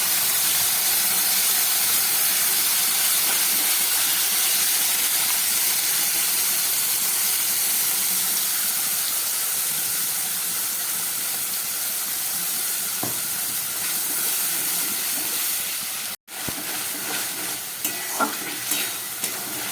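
Ground spice paste of cumin, coriander, chili, green chili, ginger, garlic and onion sizzling in hot oil with cumin seeds, a loud continuous hiss with occasional stirring clinks, cut short near the end.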